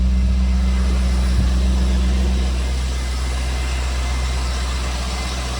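A 2001 C5 Corvette's 350-horsepower LS1 V8 with about 109,000 miles idles steadily, a close, smooth low rumble that holds constant before easing slightly quieter partway through, with no one talking.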